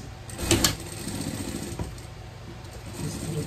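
A sewing machine runs steadily at close range while stitching a vest, with a busy mechanical hum and a slightly louder patch near the start.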